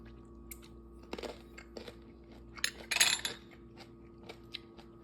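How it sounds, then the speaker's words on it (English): Close, crunchy chewing and biting of beef tendons stir-fried in soy sauce with chili, in irregular quiet bursts with one louder flurry midway, no talking. "It's like chewing into a very hard tomato"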